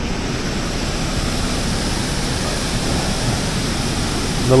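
Water rushing steadily into a canal at the Wigan Flight of locks, a loud, constant broadband roar that continues unbroken throughout.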